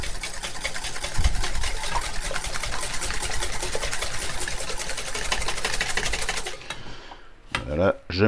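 Egg yolks whisked with sugar for crème anglaise, a fast, steady rhythmic whirring of beaters in a bowl that runs close and continuous, then stops near the end with a few clinks.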